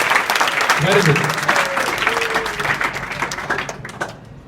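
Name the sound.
audience applause for a student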